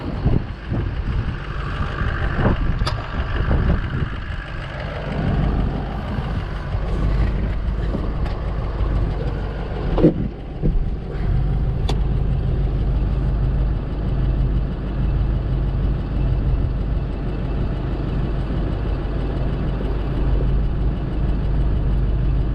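A tow truck's engine runs with the PTO engaged, a steady loud low rumble with a few knocks and clunks early on, then an even drone.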